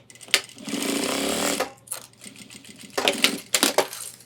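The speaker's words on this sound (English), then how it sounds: "Then we're going to do a top stitch over the part that we just folded." A sewing machine top-stitches a homemade ultralight hiking backpack, running in a sustained burst, then several short stuttering runs and sharp clicks, close and loud.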